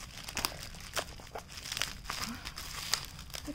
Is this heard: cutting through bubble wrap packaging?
yes